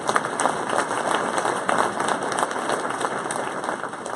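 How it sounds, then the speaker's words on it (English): A crowd applauds steadily at a school educational foundation awards evening, dense clapping from many hands filling the room at a constant level throughout. "one more round of applause for them."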